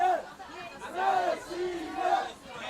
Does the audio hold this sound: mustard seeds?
no